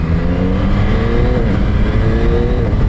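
A Yamaha R9 motorcycle engine accelerates while riding, with a steady, loud, close-up drone whose pitch climbs through the gears and holds up strongly without pause.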